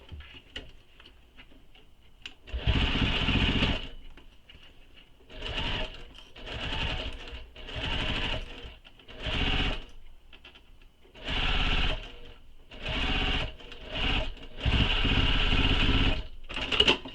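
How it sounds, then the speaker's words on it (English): A sewing machine stitches a Pawling handbag in repeated loud bursts of rapid, mechanical clatter, separated by short pauses, close up and alone without talk. "Now I'm going to stitch that together."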